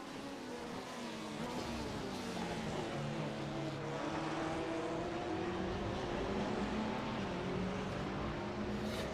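GT race cars in an iRacing replay, a racing video game, drone through a corner with a continuous engine roar whose pitch dips and rises as they brake and accelerate, steady and moderately loud.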